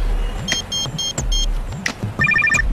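A telephone rings with short repeated electronic trills in quick bursts, loud and close, over a low background rumble.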